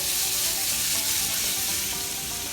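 Pork belly frying in its own rendered fat in a pan for a Sichuan twice-cooked dish, a steady close, loud sizzle with dense crackling spatter throughout.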